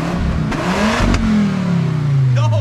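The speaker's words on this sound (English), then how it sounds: "Main man here is gonna give us a rev. 5-cylinder mate, it's an RS3" An Audi RS3 estate's five-cylinder engine is revved up twice in quick blips, then settles into a falling, raspy drone, loud and close with no talk over it.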